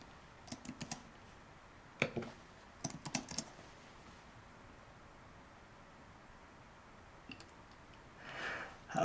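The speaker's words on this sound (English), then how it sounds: "That's one loud keyboard." Bursts of clacky keystrokes on a computer keyboard with the mic just above it, typed in short clusters with quiet pauses between, close and crisp.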